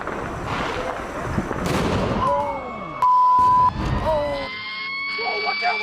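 Illegal fireworks going off amid a street scene: loud bangs and crackling bursts mixed with whistling, a steady alarm-like tone and people talking and shouting throughout.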